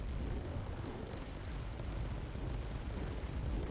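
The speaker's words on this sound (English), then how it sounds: "Oversized cannons designed to perform orbital bombardment." Deep, sustained rumbling booms from oversized HQ cannons firing an orbital bombardment in the strategy game Tower Dominion, a loud continuous barrage with no gaps and no talk.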